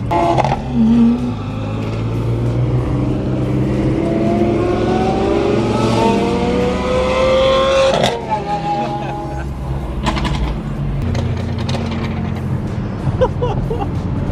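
A Porsche sports car revs hard on a public road with a police car nearby, its engine note climbing loudly and steadily, then dropping into a rougher, crackling idle with sharp pops and bursts.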